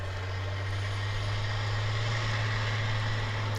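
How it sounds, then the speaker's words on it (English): A fire truck at DFW Airport pulls away with a loud, steady low rumble that holds level throughout, a deep engine drone with broadband road noise above it. "That noise you hear is that fire truck roaring off back to its home base"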